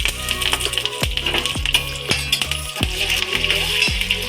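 Curry leaves dropped into hot cooking oil alongside cumin, garlic and ginger crackle and sizzle close up, with a steady hiss broken by a series of sharp pops and spoon taps, and no talking.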